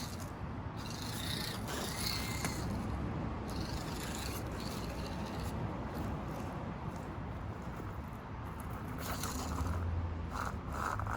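Micro 6x6 RC truck with an upgraded motor running on a 2S battery, a continuous close whir and gear rattle with faint rubbing and ratcheting noises throughout.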